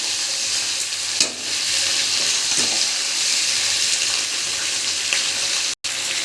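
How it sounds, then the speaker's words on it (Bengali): Chicken added to browned onions fries in a pan with a strong, steady, close hiss, marked by a couple of soft spatula knocks and a brief cut near the end, no talking. "এবারে ধুয়ে রাখা চিকেন দিয়ে দেব। একটু নেড়ে চেড়ে দেবো।"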